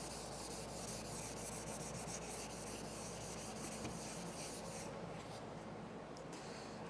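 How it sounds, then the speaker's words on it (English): A cloudy plastic headlight lens being sanded to strip its old coating: steady, continuous rasping rubbing, close and fairly even, with no talk. "I'm going to keep sanding until I see, you can see the areas that still have that old coating on them"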